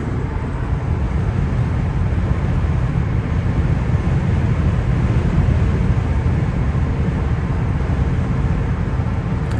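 Steady broadband wind and road roar inside a 2001 Nissan Maxima GLE cruising on the freeway on a windy day, a constant loud rumble with no talk.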